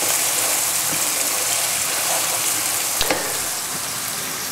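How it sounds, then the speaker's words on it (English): Chopped onions sizzle and fry in a hot pan for a vegetarian lasagna, a steady close hiss with a brief clatter partway through as they are stirred. "Now I'm just going to cook the onions for a minute, maybe 2 minutes"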